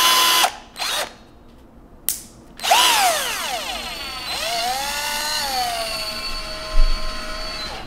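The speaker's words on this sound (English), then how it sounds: "I'm using a power tool for the first time" A power drill gives a few short bursts, then runs longer and whines up and down in pitch as it spins.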